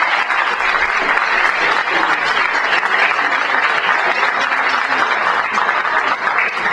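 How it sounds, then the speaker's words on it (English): Loud, sustained applause from a large crowd fills the whole stretch, many hands clapping continuously with no pause. "Can we give Queen Martin another one to do a round of applause?"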